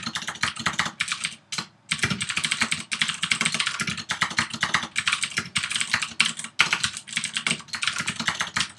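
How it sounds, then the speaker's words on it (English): Rapid typing on a loud computer keyboard, crisp clacking keystrokes in quick uneven bursts with short pauses between, close and clear with no talking. "I know my keyboard is pretty loud."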